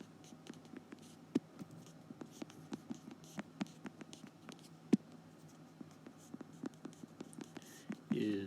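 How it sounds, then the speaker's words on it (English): A stylus tapping and scratching across a tablet screen with rapid, irregular small clicks and scrapes, close and faint over a steady low hum. "my stylus is struggling to write on this screen"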